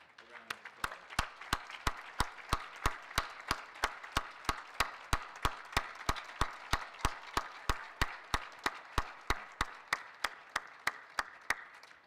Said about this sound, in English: please rise so we can give you a round of applause